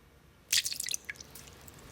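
Blackcurrant cordial, a couple of tablespoons, poured into a mixing vessel, giving a short splashy burst of liquid followed by a few fading drips, close and fairly quiet with no talking.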